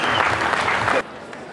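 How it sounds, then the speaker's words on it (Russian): Loud, dense applause from an audience at a sports award ceremony fills the first second, then cuts off abruptly, leaving only low room noise. "И это действительно стоит ваших громких аплодисментов."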